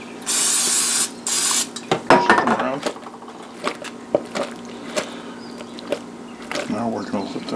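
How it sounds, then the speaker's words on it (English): Two short hissing bursts of an olive oil spray can open the clip, followed by clinking dishes and utensils being handled close by. "I'm going to spray a little olive oil spray on them"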